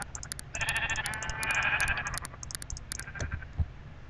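Repeated sheep bleats from blocky video game sheep, several overlapping calls in quick succession, fairly close and clear with no talking.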